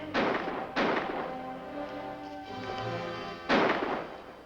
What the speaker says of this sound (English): Tell him to cut out that firing!